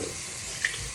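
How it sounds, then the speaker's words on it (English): Tap water running into a container while making sourdough bread at home, a brief steady splashing hiss with a small bright plop partway through. "So filling that with water."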